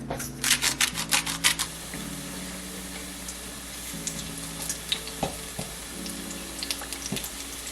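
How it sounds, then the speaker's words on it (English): Food frying in a pan at home, a steady crackling sizzle with bursts of louder spitting and clattering utensil taps, heard up close and without voices. "And then I put that back in and fry that."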